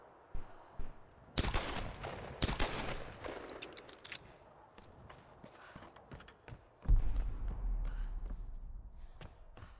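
Gunshots in the Tomb Raider video game ring out as several sharp, loud cracks early on, then a heavier impact and rumbling action follow, with no talking.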